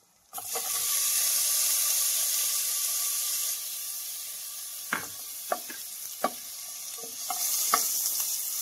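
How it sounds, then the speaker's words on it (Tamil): Paneer dropped into a hot pan and frying, a steady loud sizzle starting abruptly after a brief silence, with several short scraping stirs near the end; no voices. "நல்லா ஃப்ரை ஆனதுக்கப்புறம் பன்னீரை போட்டுக்கலாம்"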